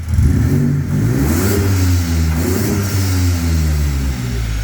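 A big-turbo Ford Ranger Raptor engine revs hard and steadily, its deep rising and falling drone loud and close with no talk over it.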